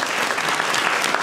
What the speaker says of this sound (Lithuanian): Palaikom į plojimais!